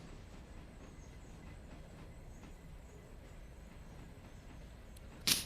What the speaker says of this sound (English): The Mogul's the one we're in now.